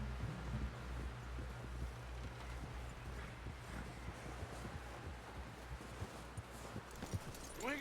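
Horse hooves in Red Dead Redemption 2, a steady, soft clip-clop of a walking horse with wind rushing over it throughout, faint and unhurried.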